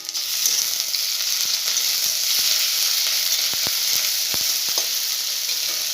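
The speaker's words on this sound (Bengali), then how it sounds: "এবার তেজপাতা দিয়ে দেবো, আদা রসুন বেটে রেখেছিলাম সেটা দিয়ে দেবো" Ginger-garlic paste and bay leaf hit browned onions in hot oil, giving a dense, even sizzle close by, punctuated by several sharp spatula clicks against the pan.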